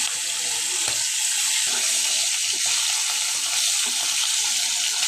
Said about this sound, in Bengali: তেলটা গরম হয়ে গেছে, এখন একটা ভাজি করে নেব। তো মাছগুলো আমি সব একটা একটা করে দিয়ে দিচ্ছি।